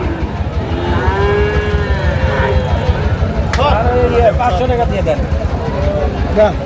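A cow moos a few times, drawn-out calls, amid a busy crowd of talking people and bustling noise at a cattle market in Sirajganj.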